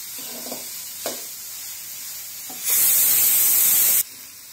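A short burst of loud hissing sizzle as chopped beetroot hits hot oil, preceded by a few soft clinks and stirring knocks.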